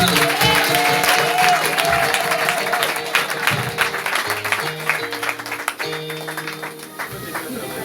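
A church congregation bursts into sustained applause and cheering to acclaim the Lord, dense clapping from a crowd over music-like tones, tapering slightly toward the end.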